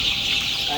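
Chickens cluck softly in a brief, close burst with faint background chatter.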